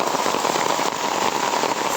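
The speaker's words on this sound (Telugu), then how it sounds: "సో ఇలా ఫుల్ రెయిన్ పడుతుంది" Heavy rain pours steadily at the entrance of a temple in Bali, a dense, continuous hiss of drops hitting surfaces at close range for the whole stretch, with no voices.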